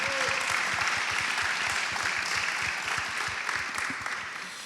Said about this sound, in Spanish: Un aplauso para los tres panelistas.